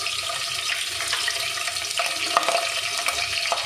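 Green chillies frying in hot oil in a pan for an Andhra-style gongura prawn dish, giving a steady, close sizzle and crackle that runs throughout with small pops and no voices.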